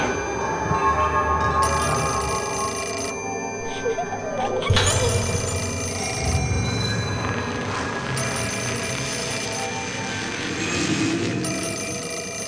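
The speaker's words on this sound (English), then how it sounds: "I hear a phone also" An old telephone rings repeatedly in the eerie video game Fatal Frame 4: Mask of the Lunar Eclipse, its bell steady and fairly loud over a dense ambient game soundscape, with no talking.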